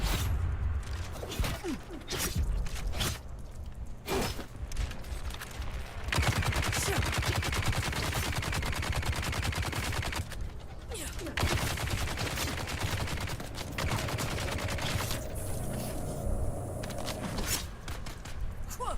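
Bursts of video game gunfire rattle loudly in rapid repeated volleys, with shouted commands and effects mixed in among the shots.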